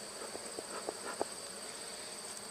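Honeybees hum faintly around a modified Warre hive during an inspection, with a thin steady buzz and a few soft clicks or taps from the hive early on.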